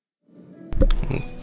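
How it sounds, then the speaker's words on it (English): Glasses clink at a bar in the video game Yakuza: Like a Dragon, a bright close chime arriving after a soft rustle, followed by a second lighter clink and a ringing tail. "a clink of the glass would be music to my ears"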